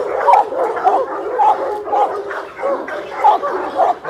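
A large Boerboel dog gives a series of rough, gargling barks and yips at uneven intervals, close by and fairly loud, with faint voices in the background.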